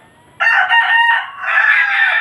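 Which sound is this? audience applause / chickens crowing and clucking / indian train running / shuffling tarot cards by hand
chickens crowing and clucking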